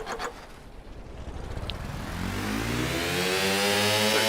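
A simulated engine runs in the game Stormworks, a steady mid-pitched drone with harmonic bands that rise as it revs up under throttle, loud and continuous with no talk.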